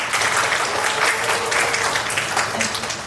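An audience at a science society's tenth-anniversary event applauds a presenter, dense sustained clapping from a full room that carries on for about three seconds before easing slightly.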